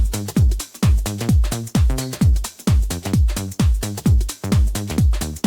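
Acid bassline from the Arturia Acid V synth plugin, pitched up 24 semitones, in a minimal house groove: a steady, repeating pattern of squelchy, resonant, sliding notes, loud and alone.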